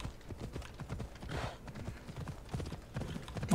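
Horse hooves clip-clop at a steady trot in the Assassin's Creed Odyssey video game, a rhythmic series of close, moderately loud knocks with a brief rushing sound in the middle.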